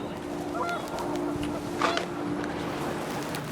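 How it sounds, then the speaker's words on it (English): Panicked geese honking in the video game What Remains of Edith Finch, a few brief honks at moderate distance over a steady windy background hum. "The wind picked up, and panicked geese appeared and quickly went."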